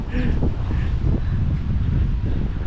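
Strong wind buffets the microphone in a steady, loud low roar outdoors at the Chiang Kai-shek memorial hall in Taiwan, with faint voices mixed in.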